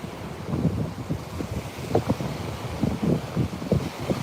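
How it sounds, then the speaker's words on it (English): Ocean surf rolling in beside a seaside boardwalk, with steady wind buffeting the microphone and repeated wave washes breaking at close range, no voices. "This is the boardwalk out by the ocean."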